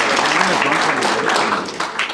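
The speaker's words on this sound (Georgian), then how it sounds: "ასეთი ოვაციები გამოიწვია მათმა ფლეშმობმა" Applause and ovation for a school flash mob performed by pupils of Akhaltsikhe Public School No. 1, a dense, steady wash of clapping from a crowd that continues throughout.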